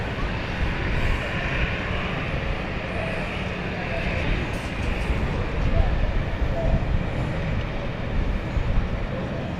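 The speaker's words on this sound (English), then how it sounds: "KLM 777 above us somewhere." A KLM Boeing 777 airliner passing high overhead in London makes a distant, steady jet rumble that swells slightly midway and continues throughout.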